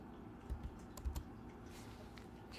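Keystrokes on a computer keyboard while setting up an ESP32 M5Stack M5Dial web server test, a few scattered taps with short pauses, close and fairly quiet over low room hum.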